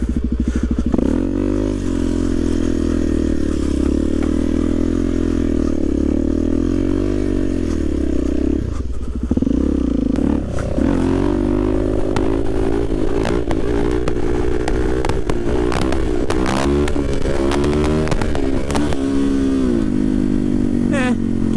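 A supermoto motorcycle spinning a donut, its engine droning steadily and rising and falling in pitch as the rider holds the throttle, loud and close, with a short dip midway.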